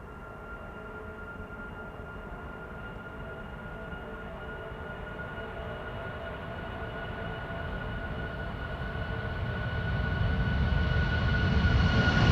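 An aging jet airliner on its takeoff run at Amsterdam Schiphol Airport gives off a steady, droning engine roar with tonal whine that slowly builds and grows louder toward the end, with no voices.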